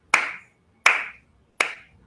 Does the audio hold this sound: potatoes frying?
no